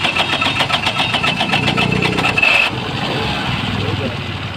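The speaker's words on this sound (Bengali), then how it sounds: "ও স্টার্ট হইলো ধাক্কাইয়া স্টার্ট দিলাম" A car with a weak battery is push-started and its mid-pitched engine catches, running loudly with rapid, even pulsing before it settles to a steadier idle, while voices are heard over it.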